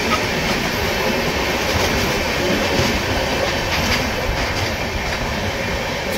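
The Jammu Tawi Express stands at platform 2 of Ayodhya Dham Junction, giving off a steady, loud rumble of rail cars and machinery without pause. It is close and continuous, with no voices.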